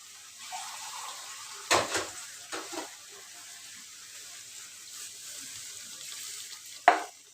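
Water pours into a pan of well-sautéed spices for a boal fish and green banana curry, bringing short bursts of hissing splash over a low, steady sizzle, close by with quieter gaps in between.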